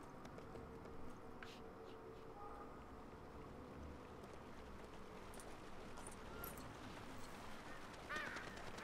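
Birds in the LEGO Lord of the Rings video game give faint honking, quacking calls at a distance, under a steady hissing ambient bed.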